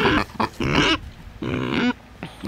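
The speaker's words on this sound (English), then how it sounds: "he is excited to meet a girl pig for the first time" Pig grunting and oinking in a farm setting, several loud close squealing oinks in separate bursts with short pauses between, no people talking.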